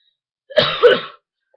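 A single short, rough cough or throat-clear, close and fairly loud, with silence before and after.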